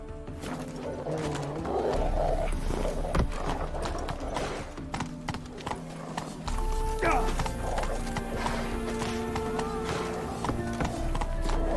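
Horse Roach gallops in The Witcher 3, steady clip-clop hoofbeats with snorts and a whinny over game music and ambience, moderately loud throughout.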